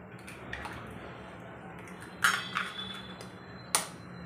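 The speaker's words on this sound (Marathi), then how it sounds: "इथे मी 4 अंडी घेतलेत, ती आपण आधी फोडून घेऊया।" Eggs being cracked one after another into a bowl for a chapati egg roll: a few sharp, close taps and cracks spaced over several seconds, each followed by soft squishy drips, against a low steady room hum.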